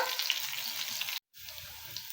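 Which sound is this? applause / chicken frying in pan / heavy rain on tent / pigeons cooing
chicken frying in pan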